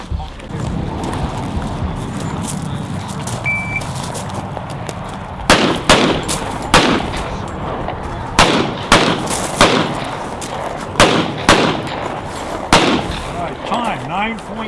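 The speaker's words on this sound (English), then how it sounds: "I'm using my uncle's Para Ordnance 1911 in 9mm that he built." Para Ordnance 1911 pistol chambered in 9mm fired at an outdoor 1911 shooting event, about a dozen loud, sharp shots in quick strings in the second half, following a stretch of background talk and ambient noise.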